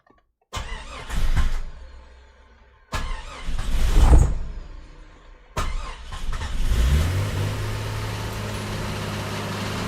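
A rebuilt Jeep XJ 4.0 engine cranks in three attempts, with short bursts of starter and sputtering separated by pauses, before catching and settling into a steady idle.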